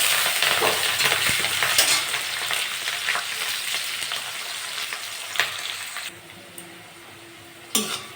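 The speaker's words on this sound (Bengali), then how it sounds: "এটা ভাজা হয়ে গেছে, এবার পেঁয়াজ আর কাঁচা লঙ্কা দিয়ে দেবো।" Onions and green chillies frying in a pan with dried chillies, five-spice and bay leaves, a steady close sizzle with stirring scrapes that fades, followed by a couple of utensil knocks.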